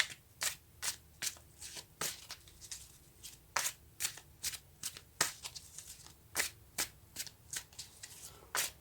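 Tarot cards shuffled by hand in a quiet room, a steady run of crisp riffling bursts about twice a second, close and soft, with no talking.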